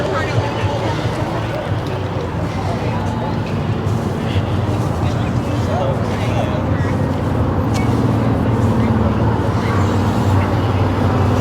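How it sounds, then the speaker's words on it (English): An ice cream food truck rolls past at an outdoor van meet and car show on a hot day, a steady low engine and road rumble that stays loud and near throughout. "We gotta get away as there's a food truck coming through."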